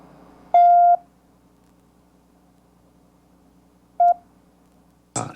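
Telephone dialing tones: a half-second steady electronic tone, a short matching beep a few seconds later, then a brief harsher burst at the end, all loud and clear against near silence.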